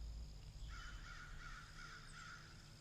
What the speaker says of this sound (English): the crows out here putting in work